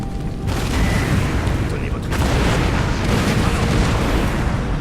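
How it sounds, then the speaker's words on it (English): Napoleon Total War artillery fires canister shot in a dense, booming roar that stays loud for the whole stretch. Battle noise continues throughout, and someone talks over it. "But they will be hit with canister shot."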